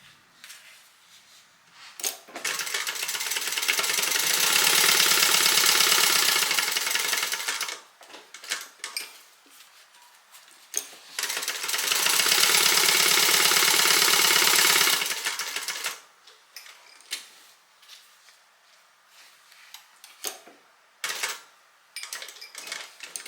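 A sewing machine stitches down a bag slip pocket, two long steady whirring runs of rapid needle chatter separated by quieter handling clicks and fabric shuffling, with more scattered clicks at the end.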